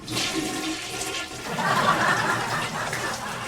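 A toilet flushes nearby with a steady rushing of water that swells midway and then settles into a continuous refilling wash, with no voices.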